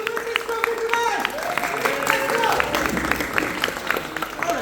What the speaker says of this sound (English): Come on guys, a big applause.